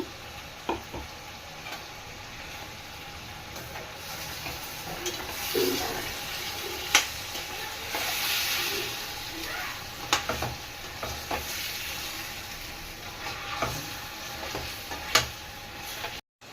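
Freshly ground masala of cloves, coriander seeds, ginger and garlic sizzles and fries in a pan for chicken curry, a steady soft crackle with occasional sharper pops and stirring scrapes throughout, no talking.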